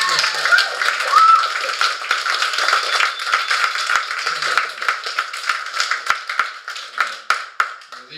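A comedy-club audience applauds for the night's comedians at the DECA, a dense wash of clapping with scattered louder claps that thin out toward the end.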